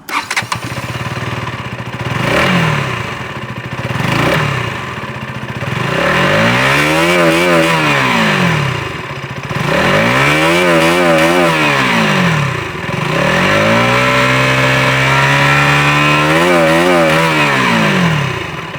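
A 2024 KTM Duke 200 motorcycle engine revs repeatedly from idle, each throttle blip rising and falling in pitch, loud and close, with a steady idle between revs and no talking.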